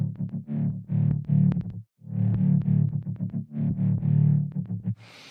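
Supporting bass synth from a Massive instance built on detuned saw waves, loud, buzzy and alone, playing a choppy rhythmic pattern of short stabs and sustained notes with brief gaps.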